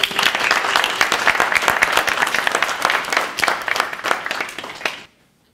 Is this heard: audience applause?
yes